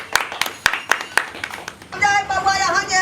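Hand clapping at a Maithili comedy wedding skit: about six sharp, evenly spaced claps over a bed of voices, then people talk and chant loudly.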